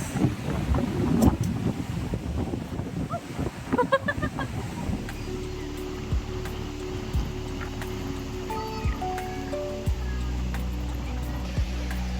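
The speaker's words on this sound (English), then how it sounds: "it's super windy here" Strong wind at a beach in Varkala, Kerala, buffets the microphone in heavy low rumbling gusts, with surf-like roar beneath; the blasts ease somewhat midway but continue steadily.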